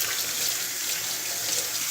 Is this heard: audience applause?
no